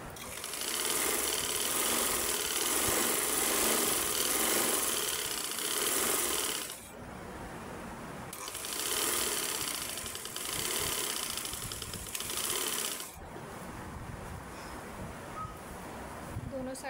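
A sewing machine runs straight stitching on a frock made from an old shirt, a loud, fast continuous whirr in long bursts with brief pauses between runs.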